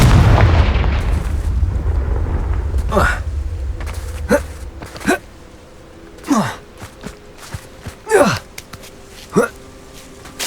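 Confringo fire spell explosions in the video game Hogwarts Legacy, a big booming blast at the start that decays, followed by several sharp whooshing spell bursts spaced a second or two apart, with character voice effort sounds mixed in.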